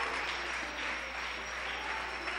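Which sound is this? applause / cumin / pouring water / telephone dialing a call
applause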